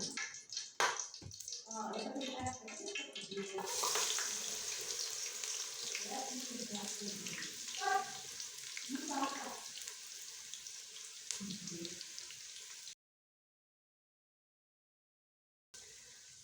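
Onions dropped into hot oil for a paye gosht dish, a broad hissing sizzle that begins partway in and holds steady, with clatters of handling underneath before it cuts to near silence near the end.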